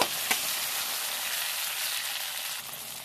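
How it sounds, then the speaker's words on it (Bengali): Chopped onion and tomato frying in a pan, a steady bright sizzle close up with a brief stirring clatter at the start. "পেঁয়াজ লাল লাল করে ভাজা হয়ে যাওয়ার পরে দিয়ে দিলাম টমেটো।"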